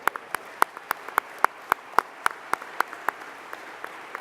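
Sparse applause at the opening ceremony of the 2016 JCC Maccabi Games, a few distinct, evenly spaced sharp claps ringing out in a large room, with a quieter background wash of clapping.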